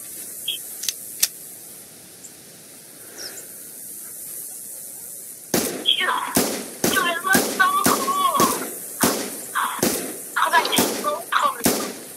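Rapid series of sharp shotgun blasts during a goose hunt in an open field, roughly a dozen cracks in quick, irregular succession, loud and close, following a quieter stretch with a few isolated pops.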